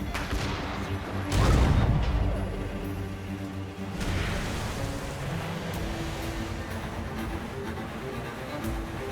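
Heavy ship cannons boom in Assassin's Creed Rogue naval combat, a loud blast near the start, then further rumbling shots over a steady roar of wind and sea.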